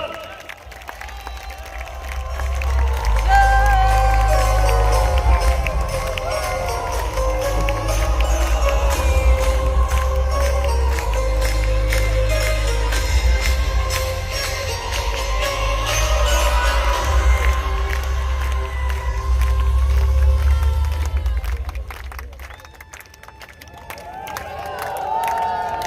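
An audience at an RCM Roopantara Yatra 2025 event, a large crowd, claps and cheers loudly and steadily to welcome the speaker Saurabh Chabara, with a dense wash of applause that fades near the end.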